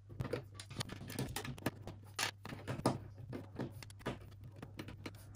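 Small bolt-type screws are worked loose from the case of a Chuwi LarkBox mini PC during a teardown, giving faint, irregular clicks and light metallic ticks over a low steady hum, with no talk.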